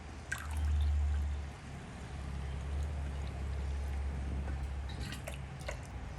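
Warm water pours into a drink in a cup with a soft trickle and a few drips, close and quiet, over a low steady hum.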